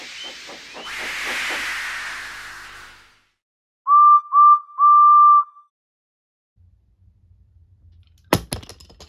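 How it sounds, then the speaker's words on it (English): Toy or model steam engine scene with a bursting hiss of steam at the start, followed by three bright whistle toots in a row, then quiet low rumbles and a sharp clatter at the end. "So they lit his fire, made lots of steam, and Edward puffed away."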